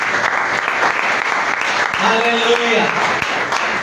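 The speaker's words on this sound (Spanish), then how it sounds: "Denle esa ofrenda de aplausos al Señor" Church congregation applauding as an offering to the Lord, a steady broad wash of clapping throughout, with a voice speaking over it partway through.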